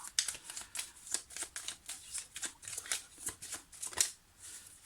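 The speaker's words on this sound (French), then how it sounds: "je vais couper, puis je vais prendre les autres cartes" A deck of cards is shuffled and cut by hand. The riffling and slapping is close and steady, with quick repeated bursts and no talk.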